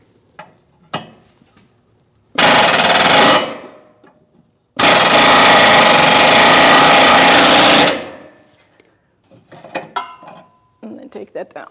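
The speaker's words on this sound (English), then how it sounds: "I have to use an air chisel to get it out" An air chisel hammers at a rusty cam adjustment bolt on the rear lower control arm of a 2016-2025 Chevrolet Malibu. It comes as two loud, sustained bursts, a short one and then a longer one of about three seconds, with quieter clanks between them and afterward.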